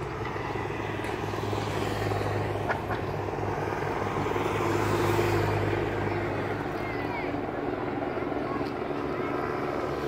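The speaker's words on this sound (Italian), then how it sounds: "Guardate com'è basso l'elicottero in questo momento" A helicopter flies low over the Giro d'Italia race in Manfredonia, a loud, steady rotor thrum with a droning engine hum that fills the whole stretch beneath excited commentary.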